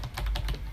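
A short burst of typing on a computer keyboard, about five or six close, crisp key clicks in fast succession, heard alone.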